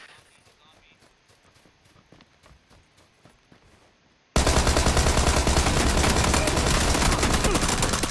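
Rapid video game gunfire bursts in suddenly and loudly after a few seconds of quiet clicking and faint steps, then keeps going as a dense, continuous rattle.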